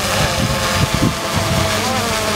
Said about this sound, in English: it blows the way the strong wind is blowing